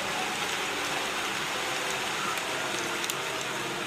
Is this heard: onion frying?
no